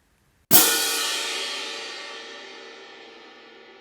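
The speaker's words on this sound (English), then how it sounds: "all you have to do is move the right cymbal into and out of the bottom cymbal" A pair of hand-held crash cymbals is struck together once after a moment of silence, giving a sharp, bright clash that rings on with a long, slowly fading shimmer.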